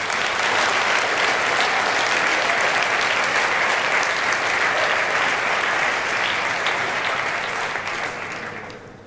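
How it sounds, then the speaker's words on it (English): An audience claps loudly at a physics conference plenary lecture. The applause is dense and steady for about eight seconds, then fades near the end, with no talking over it. "I would like to ask you all to really give a big round of applause to all the people that actually made that happen"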